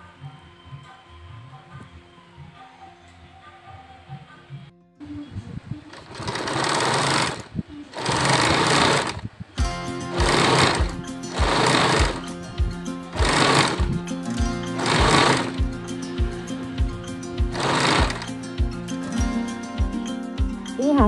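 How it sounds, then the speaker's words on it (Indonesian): A sewing machine stitches straight seams joining patchwork fabric scraps for a pillowcase, sounding as several loud, close bursts of rapid whirring stitches separated by short pauses, with a quieter stretch at the start. "Kita jahit lurus saja."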